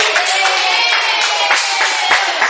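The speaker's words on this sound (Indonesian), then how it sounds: "Sudah tepuk tangan buat Wiwin" Schoolchildren in a fifth-grade classroom clapping together for a classmate named Wiwin, a loud, close, continuous burst of hand claps with a few sharper accents.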